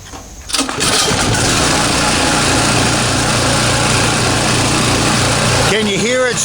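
A gas-powered Champion generator with a gummed-up carburetor starts and runs with a steady, buzzing engine drone, close and loud, while a voice talks briefly over it near the end.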